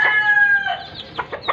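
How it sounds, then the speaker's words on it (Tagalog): Pet chickens on a game farm, close by: a rooster crows briefly, followed by a few quick, sharp clucks. "Mga alaga kong manok guys."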